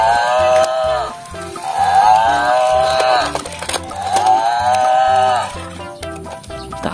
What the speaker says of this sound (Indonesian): Wow, ada binatang ternak.